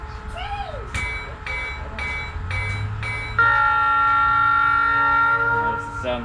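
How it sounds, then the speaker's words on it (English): Restored life-size train with its engine started up, tonal horn-like blasts and steady mechanical drone rising after a few short bursts, fairly loud and close, with people talking nearby. "That's just the engine rumbling."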